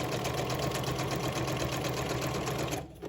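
A sewing machine runs steadily, stitching a zigzag on fabric, with a fast even whirring chatter close up that stops abruptly near the end.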